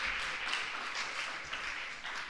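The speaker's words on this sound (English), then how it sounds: "shall we applaud ourselves for the presentations?" Audience at a university science and agriculture postgraduate research day conference applauding the presentations, a steady, dense wash of clapping that stays even and fairly soft throughout.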